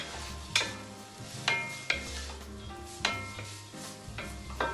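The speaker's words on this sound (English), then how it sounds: "I'm going to pop the grated carrot in as well. Give it a good stir." Grated carrot stirred into a frying vegan three bean chilli, with several distinct spoon scrapes and clinks against the pan over a low sizzle, close up and with no talking.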